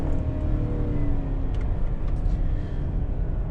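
A 2021 GMC Yukon Denali SUV accelerating flat out from 0 to 60 mph, a loud, steady engine roar with deep road rumble heard from inside the cabin, continuous throughout with no talking.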